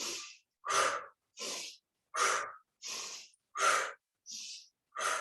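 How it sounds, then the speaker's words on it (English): Rapid rhythmic yoga breathing, with about eight forceful breaths in quick succession and short silent gaps between them, close and clear with no talking. "Picking up the speed. Inhale, exhale, inhale, exhale."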